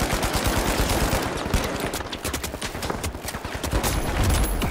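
Sustained rapid automatic gunfire from an enemy in the shooter game The Finals, a continuous loud stream of shots with no pause for reloading.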